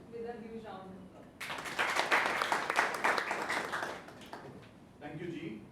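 At a Toastmasters club meeting, an audience bursts into a few seconds of brisk applause, with a speaker's voice just before and after it.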